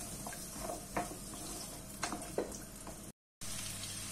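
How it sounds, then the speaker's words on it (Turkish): Carrots sauté in half a tea glass of olive oil in a pot, a soft, quiet sizzle broken by a few utensil scrapes and clinks as they are stirred. "Üzerine havuçları ekleyip 2 dakika kavuruyorum."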